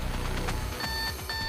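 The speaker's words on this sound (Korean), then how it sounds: "즉각 울리는 경보." An alarm from a gas detection ball sounds right after gas is injected into a box holding the ball, used to sense oxygen, carbon monoxide and hydrogen sulfide. It gives steady, high electronic beeping tones over a constant background hum.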